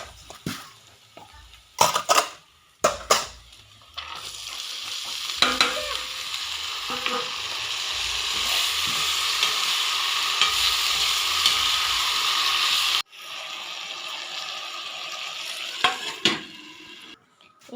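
Crushed garlic drops into hot oil with turmeric and salt and sizzles loudly and steadily for about nine seconds, bracketed by sharp clinks and scrapes of a spoon stirring in the pan, with no talking.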